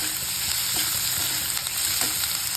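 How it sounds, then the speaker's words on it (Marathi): Semolina for upma sautéing in a hot pan, a steady close sizzle with soft scraping stir strokes throughout, no voices. "चांगलं परतून घ्यायचं मस्त"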